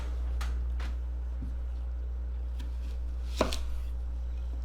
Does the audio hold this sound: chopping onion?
yes